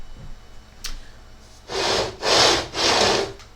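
A custom-built 3D printer on a test run gives three loud, broad whirring bursts of motor and axis movement, each lasting about half a second, after a faint click. No one speaks.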